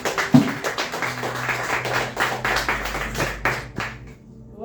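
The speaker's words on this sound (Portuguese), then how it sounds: "Em nome de Jesus, aplaudo o Senhor." Church congregation clapping at the close of a family worship service, a dense burst of hand claps that thins out and stops after about four seconds.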